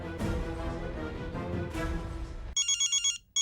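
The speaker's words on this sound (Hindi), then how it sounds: "घंटी जा रही बॉस।" Steady electronic phone ring tone in repeated short pulses, starting after some background music, clear and close, in a TV sitcom scene.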